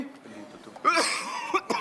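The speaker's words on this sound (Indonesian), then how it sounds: "Batuk Anda ini sudah mengganggu ketertiban kuis." A short burst of coughing during a quiz show, two or three harsh coughs close by after a moment of quiet murmuring.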